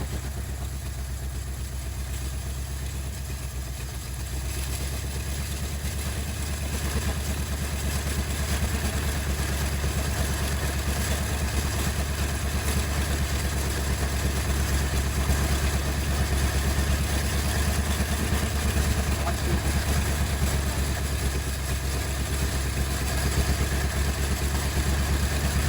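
A 1956 Ford Fairlane with a 292 V8 idles steadily and close by, a continuous low rumble with a loose, lumpy exhaust beat that holds even throughout, with no voices.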